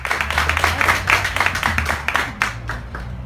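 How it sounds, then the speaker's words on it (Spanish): An audience at a book fair talk breaks into steady applause, many hands clapping together at close range for a few seconds. "Muchas gracias, le damos un fuerte aplauso."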